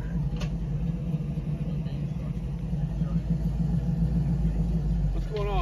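Car engines rumble at an outdoor car cruise-in as vehicles roll in, a continuous low drone with a brief higher whine near the end, people talking close by over it.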